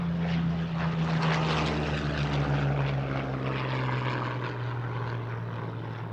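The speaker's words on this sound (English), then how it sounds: "the fighters pull away" Fighter aircraft pulling away at the RIAT 2000 air show at RAF Cottesmore, a loud, sustained propeller-engine roar with a steady droning pitch that slowly fades as they recede.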